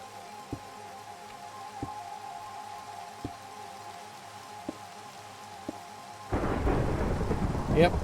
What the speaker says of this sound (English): Yep, thunderstorm.